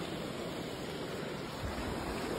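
Steady rushing water fills the clip, a broad continuous wash like a river flowing close by, with no voices.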